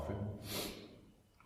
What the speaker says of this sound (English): me sniffing.